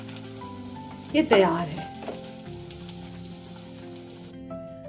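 Paneer pieces shallow frying in a pan give a short, bright sizzling burst that fades into a low steady crackle, while someone talks nearby.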